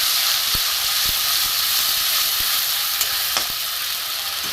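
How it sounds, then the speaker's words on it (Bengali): Spice paste and ground spices sizzle steadily in hot oil for an egg dalna, a dense continuous frying hiss with a few faint clicks and taps, close and alone without talk. "এবার আমি মশলাটা এতে দিয়ে দেবো। পেস্ট করা মশলা, গুঁড়ো মশলা"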